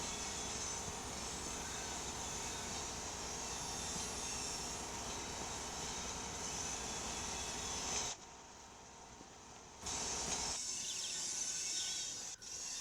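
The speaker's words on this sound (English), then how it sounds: "this coal train is C12, a coal from Beijing power plant to Seattle train yard" A coal train in the Train Sim Pro USA video game rumbles steadily with a continuous engine and rail drone, cutting out briefly near the end before resuming.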